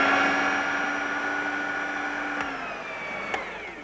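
A Phillips Kitchen Helper electric mincer, fitted with the coarse blade and mincing bacon and onion, whirs with a steady motor hum that slowly drops in pitch as it winds down, with two faint clicks.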